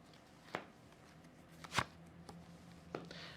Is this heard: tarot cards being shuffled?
yes